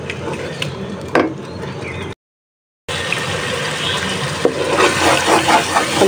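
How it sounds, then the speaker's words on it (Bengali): River bele fish are rinsed under water in a kitchen, giving a steady splashing wash that cuts out briefly midway and then resumes louder. "বেলে মাছটাও ধুয়ে নেই এদিক দিয়ে।"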